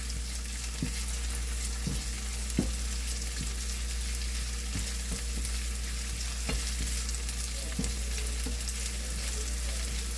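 Puffed rice poha cooks in a pan over a low gas flame, giving a steady, even sizzle throughout with occasional sharp clicks from stirring, close and with no talk.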